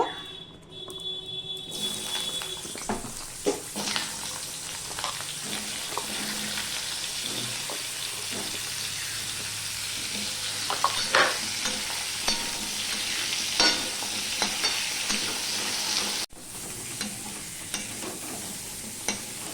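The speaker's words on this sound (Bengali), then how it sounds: "এবারে যে মিষ্টি কুমড়োটা আমি এটা ভেজে নেব" Pumpkin pieces fry in white oil in a wok, a continuous close sizzle broken by frequent clinks and scrapes of a spatula stirring against the metal, with one brief cut near the end.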